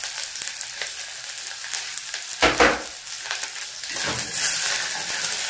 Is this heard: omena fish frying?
yes